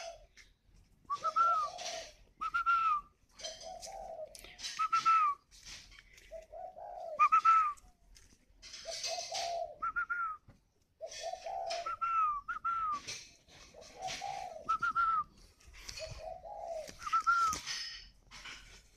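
Spotted dove cooing while brooding, close and clear, repeated soft two-part coos at a slow regular pace with short pauses between phrases.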